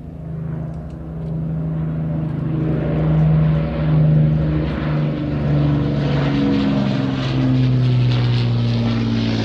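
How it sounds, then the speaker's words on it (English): Avro Lancaster bomber flying past at an air festival, its piston propeller engines giving a loud, steady multi-engine drone with a rising and falling pulse as it passes overhead, no talk. "Here is the Lancaster."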